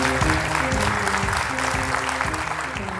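A studio audience claps steadily to welcome a guest on a medical talk show, with a rhythmic musical backing running beneath the applause.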